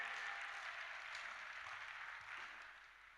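A church seminar audience claps steadily and densely at close range, the applause holding loud before tapering slightly toward the end, with no voices standing out.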